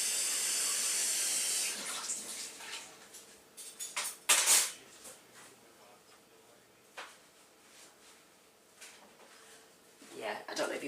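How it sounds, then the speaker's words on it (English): A kitchen or bathroom tap runs steadily at close range while a foam scrubber is rinsed under it, a broadband hiss that stops after about two seconds, followed by soft handling clatter and brief water splashes. "I don't know if you heard me then when the tap was running"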